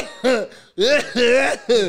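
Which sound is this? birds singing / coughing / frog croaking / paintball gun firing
coughing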